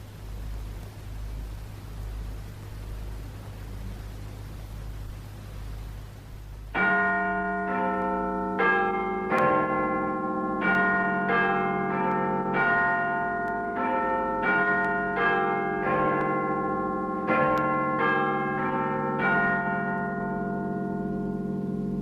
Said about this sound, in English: Now, in just a few seconds, the chimes of Big Ben and the 10 o'clock news.